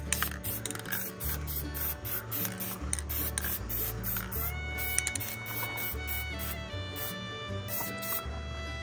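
Aerosol spray paint, EDP Propeller Black, hisses steadily onto an under-hood part of a 1995 Ford F-150, a continuous close spray lasting several seconds with small mechanical clicks mixed in.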